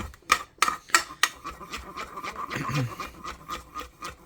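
Boxed shells and white cheddar powder being mashed with milk and butter in a pot, giving a few sharp utensil clinks against the metal followed by steady scraping and rubbing.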